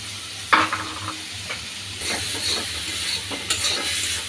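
Maggi noodle spice mix frying in a pan, a gentle sizzle with a sharp clink of a utensil early on and scattered stirring scrapes.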